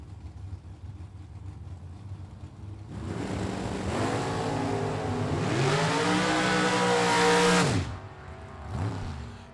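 Drag racing launch of a 1986 Chevrolet Camaro and a 1967 Chevy Nova: low idling rumble swells into a loud, rising roar of engines accelerating down the strip, fading sharply as they pull away, then a brief later surge.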